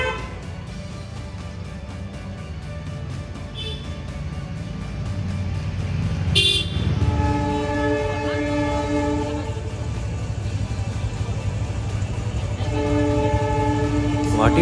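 A train rolls past a railway crossing in Guwahati, sounding a loud sustained horn in two long blasts over the steady rumble of wagons and nearby traffic.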